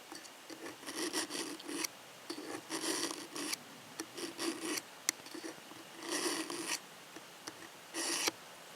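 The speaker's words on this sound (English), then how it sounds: "the more you pull it through, the less of that grinding noise you'll hear" A knife blade drawn repeatedly through a Smith's sharpener, producing a series of short raspy grinding strokes in an irregular rhythm, close and fairly quiet with pauses between pulls.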